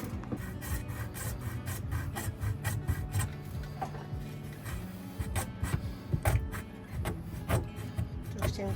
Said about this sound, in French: je vais utiliser ma super scie que j'ai achetée au Cianada. Avec mon copain Alain.